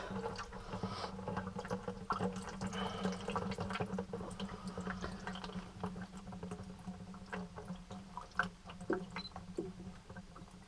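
Water runs and splashes steadily at low volume from an opened house water filter housing, with scattered drips and small splashes throughout.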